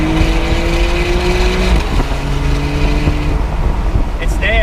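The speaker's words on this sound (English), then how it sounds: "So the GT noise, guys, that I always talk about at the track. Listen, at the high RPM," A Porsche 911 992 Cabriolet engine revs at high RPM with a loud, steady, raspy drone under wind and road noise, while someone talks over it.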